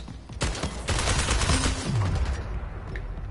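Video game gunfire, a dense volley of rapid shots that breaks out after a brief lull and rattles loudly for about two seconds before thinning into fainter background noise.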